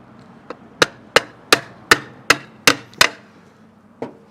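A hammer drives a nail into the center of a log at a sawmill demonstration, eight sharp ringing strikes in a steady rhythm, a light first tap and a final softer blow after a pause.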